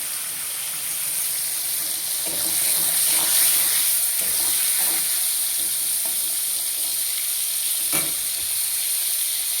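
Steady, loud sizzling of potatoes and pointed gourd frying in oil, with a few soft clinks and scrapes of stirring partway through.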